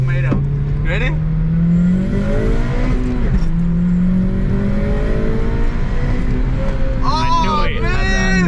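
A car engine revs hard and climbs through the gears as it accelerates, with rising and falling harmonic whine, loud and close from inside the cabin while people talk and shout over it.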